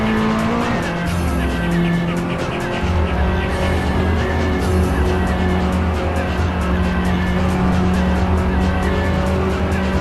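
Race car tires in Gran Turismo 7 squealing as the front brakes lock up, a sustained loud screech running continuously over a droning engine and a booming bass-heavy music track.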